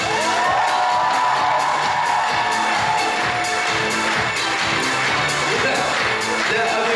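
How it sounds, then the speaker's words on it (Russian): An audience at a student festival awards ceremony, the Student Spring 2019 gala concert, fills the hall with sustained applause and cheering. The dense, steady clapping carries on throughout, with scattered whoops. "И эти аплодисменты только для вас."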